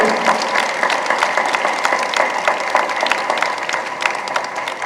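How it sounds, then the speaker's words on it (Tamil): Sustained applause from a large audience at a Tamil pattimandram debate stage event, dense steady clapping at loud level throughout with a few sharper individual claps standing out. "இந்த கைத்தட்டு பத்தாது"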